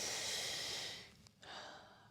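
A slow, audible inhale through the nose during a Hatha yoga practice, a soft rushing breath that fades out, followed by a brief snort-like catch and a quieter second breath.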